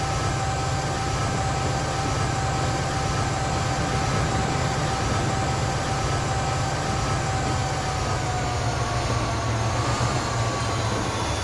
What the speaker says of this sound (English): just being sort of a train going past.